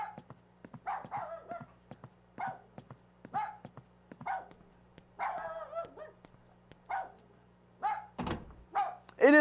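Repeated dog barks inside the horror video game Rule of Rose, sharp yelps recurring every second or so against a steady low hum, with thudding knocks and a louder burst near the end.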